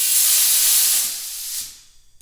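A broad, loud hiss of compressed air from a compressor hose rushes into an engine cylinder through the spark plug hole during a valve seal job, holding steady and then tapering off to quiet.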